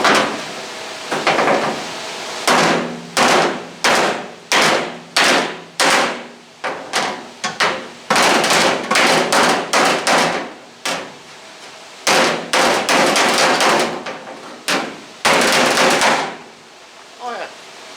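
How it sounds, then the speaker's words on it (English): Hammer and dolly knocking a dent out of 1970 Cougar sheet metal, sharp ringing metallic strikes in quick uneven bursts, close and loud, with short pauses between runs of blows. "it'll be time to see if we can pop that dent out some. I know I got hammer and dollies"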